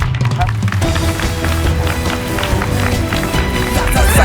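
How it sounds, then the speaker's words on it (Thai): A studio audience applauds Pat Powerpat on a Thai game show: dense, steady clapping fills the scene throughout, with music underneath and a host speaking over it. "ขอเสียงปรบมือให้แพทพาวเวอร์แพทับ"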